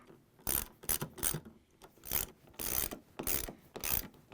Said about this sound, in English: I'm going to use this 3/8 socket wrench.